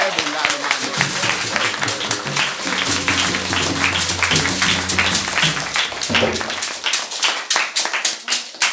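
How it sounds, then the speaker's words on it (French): A congregation at a church service claps and cheers loudly and continuously, a dense patter of hands under voices and shouting, with music tones running through it. "j'aimerais que tout le monde nous l'acclame très fort"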